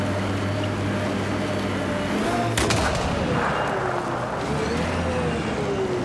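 Explosions in the Mass Effect Andromeda video game, a sharp blast cracking out midway through a continuous low droning rumble of game sound with a wavering whine, all fairly loud and without talk.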